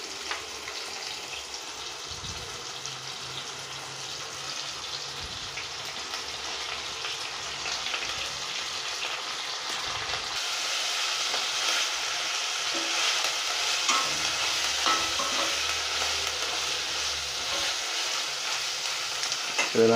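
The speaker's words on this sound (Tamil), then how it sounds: "இதை நல்லா வதக்கிட்டு அரைச்சி எடுத்துக்க போகிறோம்." Curry leaves sautéing and being stirred in a hot pan, a steady close sizzle with scraping stirs that grows slightly louder partway through.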